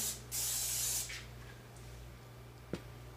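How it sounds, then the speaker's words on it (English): A short hissing burst of olive oil cooking spray greasing a bowl, followed by a softer second puff, then a faint tap against the bowl in an otherwise quiet room. "we're just going to lightly spray the bowl"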